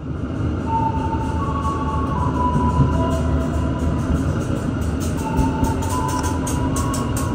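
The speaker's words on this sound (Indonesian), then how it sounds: "yang di sebelah kiri itu adalah kereta lokal Walahar Express" The Walahar Express local train rumbles steadily past at Cikarang station, a continuous rolling clatter of wheels on rails with a faint high brake or wheel squeal, moderately close and without speech.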